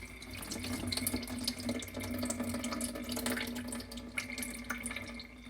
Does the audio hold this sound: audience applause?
no